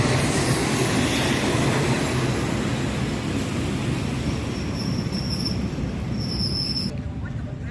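Train 210 to Ban Takhli rolls through Lopburi railway station in Thailand with a loud, continuous rumble and clatter of wheels, plus brief high wheel squeals near the end.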